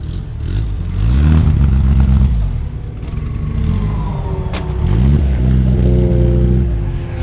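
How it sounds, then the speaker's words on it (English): A race car revving hard in repeated rising bursts during noise testing at Brands Hatch, loud and close, each rev climbing then dropping back to a rough idle. "Cars are all turning up, getting noise tested."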